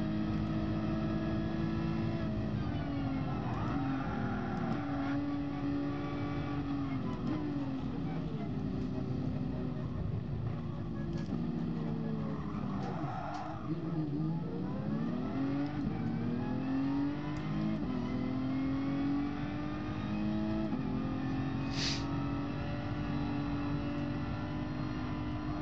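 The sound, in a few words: race car engines in GT Sport video game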